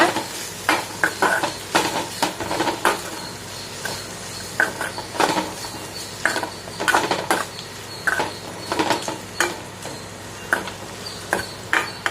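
Ivy gourd fry dusted with red chili powder is stirred in a pan. A spoon scrapes and clatters against the metal in repeated, uneven strokes over a low background sizzle.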